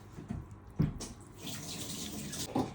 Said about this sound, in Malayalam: അപ്പോൾ നമുക്ക് ഒരു 3 ഗ്ലാസ് വെള്ളം ഒഴിച്ചു കൊടുക്കാം കേട്ടോ